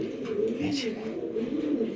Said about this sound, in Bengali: এ হচ্ছে মাদি কবুতরটাও